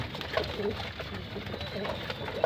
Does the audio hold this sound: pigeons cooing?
yes